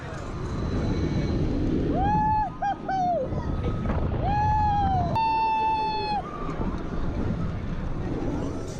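Tempesto roller coaster at Busch Gardens Williamsburg, a loud continuous roar of the running ride with rising and falling riders' screams through the middle and crowd noise underneath.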